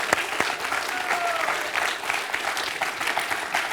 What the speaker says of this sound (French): On peut l'applaudir, Philippe.